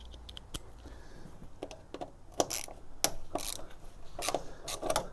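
A ratchet with an 8mm socket clicks and turns on the radiator fixings of a crashed Fiat 500 Lounge, giving short bursts of metallic ratcheting and clacks with quiet pauses between them.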